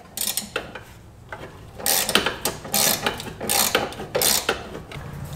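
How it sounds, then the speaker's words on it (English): Rapid ratchet clicking from a 13mm socket on a long extension, loosening engine mount bolts on a Ford Escape, in several close bursts of crisp pawl clicks separated by short pauses. "to remove those 3, you're going to need a 13mm socket and a long extension"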